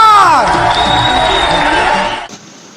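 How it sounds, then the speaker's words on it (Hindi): A crowd cheers and whoops loudly at a lively gathering, with a dense roar of voices and shouts that holds steady for about two seconds before cutting off abruptly. "एक बार जोरदार तालियां"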